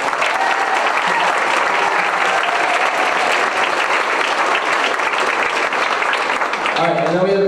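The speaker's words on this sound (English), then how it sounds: "Let's give them one more round of applause." Sustained, loud applause from a school concert audience for a group of sixth-grade band students, steady dense clapping throughout that fades slightly toward the end as a voice begins to speak.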